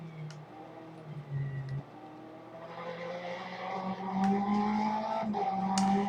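Race car in the Le Mans Ultimate sim game sweeping through corners, engine note dipping and climbing with downshifts, brief tire squeals, and the steady drone of an endurance racer carrying speed.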